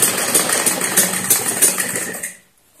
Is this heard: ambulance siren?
no